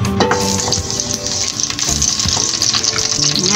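Cooking oil heating and sizzling in a pan before bitter gourd is added for an omelette, a loud, steady close-up frying hiss with a few faint clinks.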